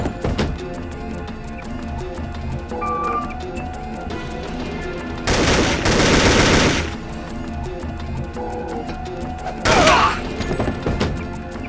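Automatic gunfire from the Deus Ex game erupts in two loud bursts, a longer sustained volley mid-clip and a shorter one near the end, over a steady low game-ambience hum.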